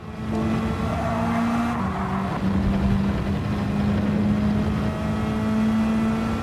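Game audio of a racing car in Gran Turismo 7 at the Red Bull Ring, engine droning steadily at high revs with pitch dropping and climbing at gear changes, loud and continuous without talk.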